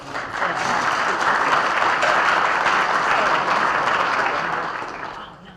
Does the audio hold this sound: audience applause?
yes